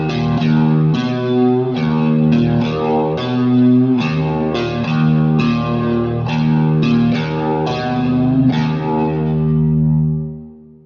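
Electric guitar played through a Kemper profiling amp on a gritty dirt channel: distorted chords and riffs with chorus-like shimmer and reverb, loud and rhythmic, ending in a ringing decay.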